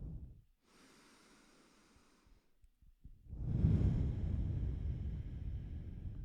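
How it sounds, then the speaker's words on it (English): Deep breathing during a stretching exercise, close and clear: a soft airy inhale, a brief pause with small clicks, then a longer, louder, rougher exhale. "And 3 more breaths."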